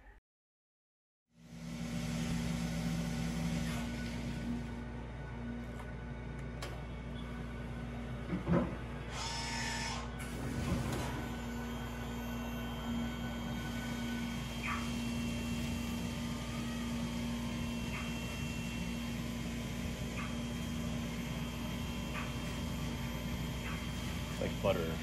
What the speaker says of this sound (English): This machine is a Brother Speedio S1000X1 owned by Machining with Meaning